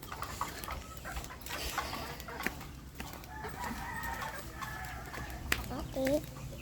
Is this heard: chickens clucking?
yes